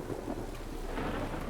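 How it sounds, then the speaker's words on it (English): A sudden thunderstorm in The Witcher 3 video game: steady rain hiss with a low rumble of thunder, moderately quiet and continuous. "Unnaturally cold indeed when there's a thunderstorm all of a sudden."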